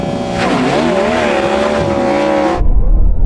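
Ferrari SF90 launching hard in a drag race, a loud close engine roar with rising and wavering pitch, then a sudden cutoff into low rumbling.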